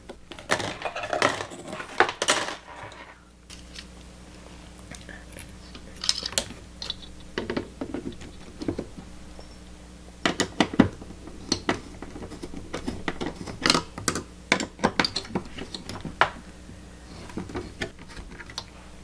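Screws being tightened while assembling an HTPC on a Gigabyte AORUS mATX motherboard: scattered small metallic clicks and taps in irregular clusters over a quiet background hum, close and fairly faint.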